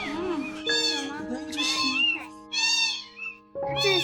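A kitten meows repeatedly in short, high, close cries while it drinks milk, with brief pauses between calls and people talking nearby.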